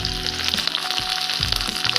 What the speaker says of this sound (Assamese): তেল গৰম হৈছে গতিকে এয়া পিয়াজ আদা নহৰু একেলগে দিছো